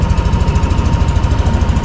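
White Yamaha Aerox 155 V3 scooter idling up close, a steady, fast, even engine putter with a constant mechanical hum, loud and alone.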